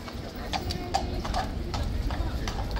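Hooves of a huge horse clip-clop on hard ground at a guard-mounting box where police hold back tourists, a brisk irregular series of sharp close knocks over crowd noise and background voices.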